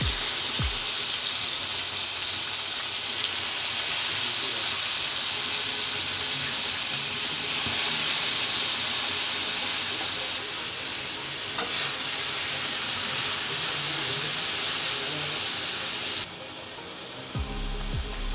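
Ridge gourd frying in hot oil with nigella seeds and green chilli, a loud, steady sizzle that fills the whole stretch, with a brief clatter near the end.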